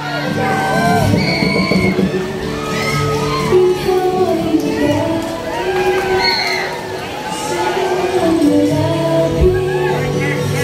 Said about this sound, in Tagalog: Palakpak tayo, palakpak!